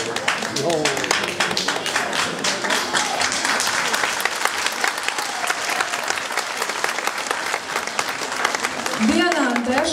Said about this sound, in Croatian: Pozdravimo i aplauzu